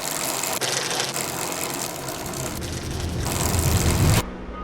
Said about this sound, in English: Most e-bikes sound like this.